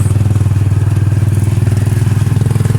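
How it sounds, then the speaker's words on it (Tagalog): A motorcycle carrying a family, its engine loud and close with a fast, even thumping pulse that holds steady throughout. "Kasakay na kami ng motor."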